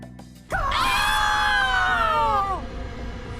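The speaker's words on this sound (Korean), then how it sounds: "관객석이 공포의 비명으로 가득 찼던 이유" A sudden burst of high-pitched screaming in a cinema during a horror film, loud and sustained for about two seconds before trailing off into a lower background murmur.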